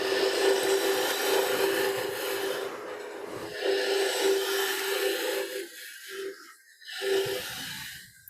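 Wood lathe at 1200 RPM cutting ornamental garden tree wood, a close steady whirring hum with rasping tool-on-wood scraping that drops out and returns in short gaps near the end.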